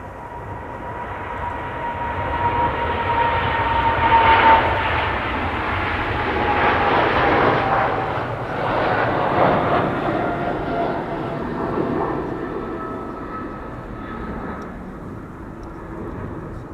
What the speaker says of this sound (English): Emirates flight 146, 777-300 to Dubai.